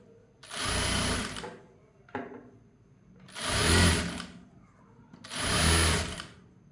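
Sewing machine top-stitching a blouse, running in three loud sustained bursts with short quiet gaps and a brief whir between the first two.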